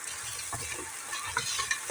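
Crushed ginger and turmeric frying in hot oil for trotter soup, a steady close sizzle with stirring scrapes and soft clatter running through.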